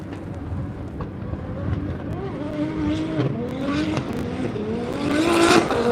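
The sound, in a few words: BMW E46 turbo drift car driving on track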